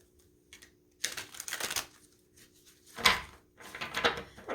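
Tarot cards are shuffled by hand in a few close, rustling riffle bursts with short quiet gaps between them.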